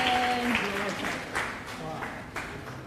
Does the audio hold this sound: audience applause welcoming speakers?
yes